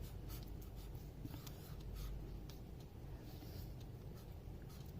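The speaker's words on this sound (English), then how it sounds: "Let me write number 42 here." A pen scratches out the number 42 in a few short strokes, faint and close, over a steady low rumble of background traffic.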